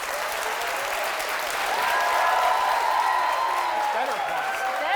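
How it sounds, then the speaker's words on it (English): A live cooking-show studio audience bursts into loud, sustained applause, dense clapping that builds slightly and stays strong throughout, with some voices mixed in. "Better applause."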